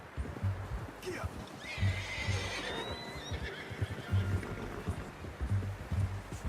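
A horse in the video game Red Dead Redemption 2 lets out a long rising and falling whinny, close and clear, over soft hoof clops and a low, steady background bed.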